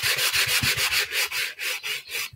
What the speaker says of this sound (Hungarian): egy nagyon picit meg fogom csiszolni, egy ilyen kis puha csiszoló szivacsal